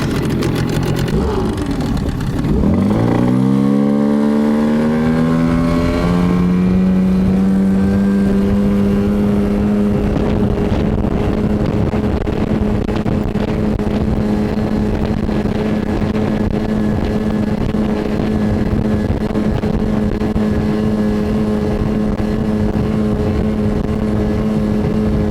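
A Tohatsu or Hidea 9.8 hp outboard motor on a boat runs at speed, rising in pitch as it accelerates, then holding a loud, steady droning whine close by for the rest of the run.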